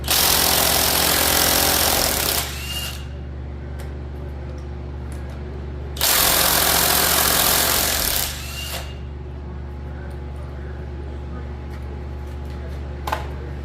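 Impact wrench hammering at bolts on an abandoned Chevy 350 engine, two loud bursts of about two seconds each separated by a quieter pause, close up, with a steady background hum between them.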